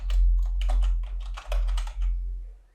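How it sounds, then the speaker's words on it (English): Typing on a computer keyboard while entering text into a spreadsheet cell, a steady flurry of close keystrokes lasting a couple of seconds with a brief pause in the middle, no voices. "I'll go ahead and type not started in here."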